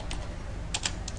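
Keys clatter on a computer keyboard as a password is typed, a few quick, close clicks in a short burst.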